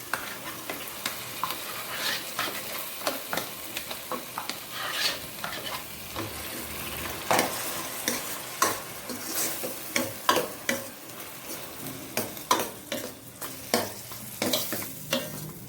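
Tomato pulp fries in a pan for chaat, a steady sizzle under frequent scraping stirs of a spoon, close and moderately loud, with no voices.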